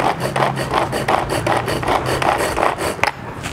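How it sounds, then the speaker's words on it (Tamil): Onion chopped in a hand-operated manual cutter, a steady run of rapid rhythmic rasping strokes, close and fairly loud, ending in a sharp click before a brief quieter pause. "ஸோ இதான் வந்து ஃபர்ஸ்ட் டைம் ஆனியன் வந்து கட் பண்ணுறோம் இந்த கட்டரில்."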